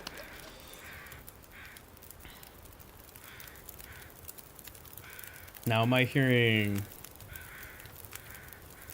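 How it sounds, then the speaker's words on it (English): Loud crow caws erupt in a short cluster of harsh calls midway through a survival video game scene, rising over steady background ambience, with a voice speaking briefly nearby. "Or weather crows? I think it was just weather crows."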